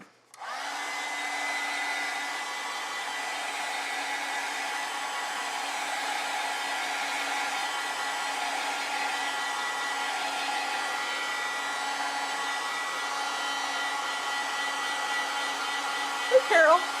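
A hair dryer runs continuously close by, drying a watercolor landscape painting with an even, loud whooshing hum that starts abruptly and holds steady to the end.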